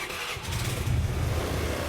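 Motorcycle engine starting, a low rumbling turnover that catches and settles into a steady idle, moderately loud and close with no talk.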